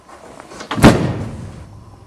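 A wing door on a small enclosed trike swings shut with a single solid thump near the middle of the clip. A short rattling decay follows the close, which is loud and near.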